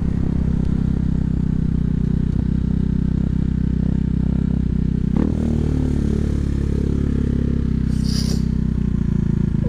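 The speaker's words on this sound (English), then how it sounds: "my bike's idling so high" A KTM Duke 390 motorcycle engine idles loudly and steadily at a raised, fast rhythm, close up, with a brief scrape or clatter partway through.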